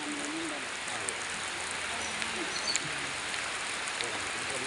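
Steady rain falls in a continuous, even hiss, fairly faint and alone, with a few soft drips or taps standing out.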